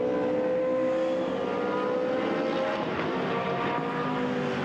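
A GT sports car on a flying qualifying lap in Hungary, its engine holding a steady, droning pitch at a moderate distance, with no voices over it.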